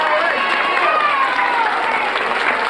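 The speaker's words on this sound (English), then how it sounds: "Clap for yourselves really loud." Children clap loudly for themselves as a group, a dense, steady wash of hand claps mixed with excited young voices for the whole stretch.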